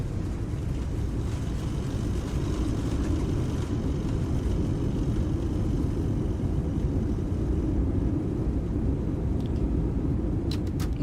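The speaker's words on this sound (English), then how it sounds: "Get the reversers out. Get it slowed down." Airliner jet engines roar in a steady, loud rumble as thrust reversers slow the aircraft after landing in X-Plane 12, broadband and continuous with a few faint clicks near the end.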